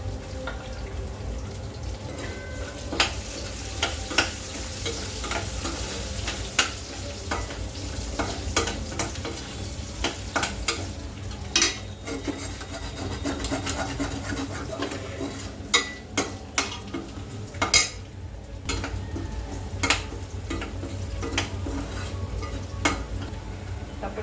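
Garlic and ginger fry in a kadhai for mushroom chili, with a continuous sizzle under repeated metal spatula scrapes and clinks that carry on steadily for over twenty seconds.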